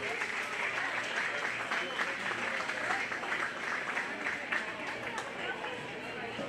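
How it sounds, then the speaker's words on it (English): Steady applause from a crowd at a 4-H/FFA swine show, continuous and fairly dense for several seconds, with faint murmuring voices mixed in. "let's give a round of applause for Class 6"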